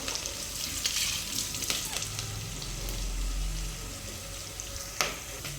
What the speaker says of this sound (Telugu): ఇది ఇప్పుడు బాగా మగ్గనిద్దాం, ఉల్లిపాయలు ఎర్రగా వచ్చే వరకు.